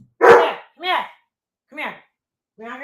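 A dog barks four times indoors at home, a loud first bark followed by three shorter, tonal yelping barks spaced apart with silent gaps between them.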